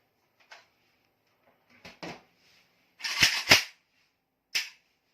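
A blank-firing Dragio rifle test-fired outdoors, giving a few scattered sharp cracks followed by a quick double report and one last shot, each short and fairly distant, with no talk.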